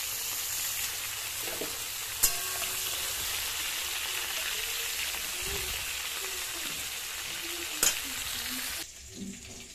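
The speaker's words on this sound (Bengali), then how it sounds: "তো চিংড়ি মাছগুলো কিন্তু ভাজা হয়ে গিয়েছে," Prawns fry in hot oil in a kadai, a steady, close bubbling sizzle that runs unbroken, with a couple of faint utensil clicks before it quiets near the end.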